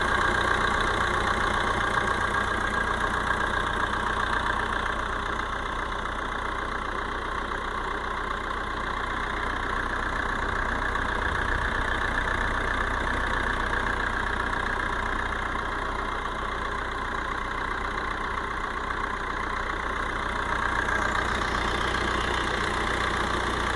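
Diesel engine of a 2018 Maruti Vitara Brezza VDi idling with the bonnet open, a steady continuous rumble with a slight knocking texture, close and constant throughout with no talk.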